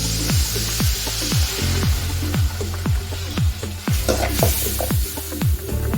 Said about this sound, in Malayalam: ഒരു സ്പൂണ് വിനാഗിരി ഒഴിച്ച് കൊടുക്കാം.